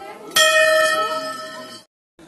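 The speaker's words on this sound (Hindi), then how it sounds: "बजा दे घंटी" A temple bell at a Hindu mother-goddess shrine is struck once, ringing loud and close with a long shimmering metallic decay that fades out before a pause.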